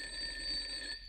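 A steady electronic page-turn chime from a Marlowe Looky-Loo storyteller book-and-record set rings out alone for just over a second, bright and sustained, then cuts off.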